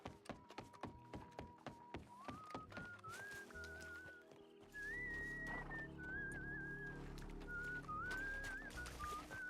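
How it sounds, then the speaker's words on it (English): A melodic whistle in a Red Dead Redemption 2 roleplay session, a rising and wavering tune over background music and wooden knocks, clear and moderately close. "I thought the whistle was part of the music I was playing in the background"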